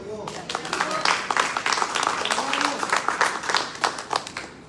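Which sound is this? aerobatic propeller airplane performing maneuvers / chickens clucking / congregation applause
congregation applause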